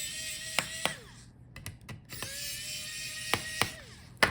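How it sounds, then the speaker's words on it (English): Small screws being turned out of the heatsink and fan inside an HP ZBook Firefly G9 laptop, a quiet close series of sharp ticks and ratcheting clicks in short bursts with pauses. "So unscrew the screws for the heatsink"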